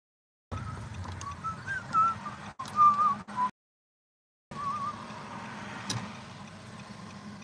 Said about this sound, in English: there's a dump truck going at 300 miles an hour here